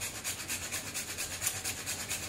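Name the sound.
grating fresh nutmeg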